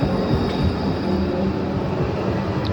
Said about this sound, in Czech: Další tramvaj.